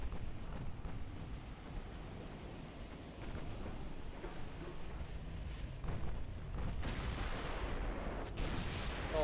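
A huge ammunition magazine detonation aboard a warship in Ultimate Admiral Dreadnoughts, heard as a sustained, thunderous, rumbling roar with crackling bursts, loud and continuous throughout with no talking.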